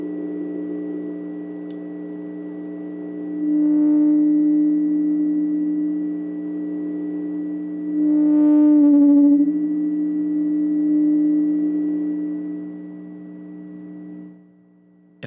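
Feedback tones from a no-input mixing board fed by channel bleed, heard as steady pure humming pitches that swell and shift, with brighter warbling chirps rising in and fading back, sustained and alone for about fifteen seconds.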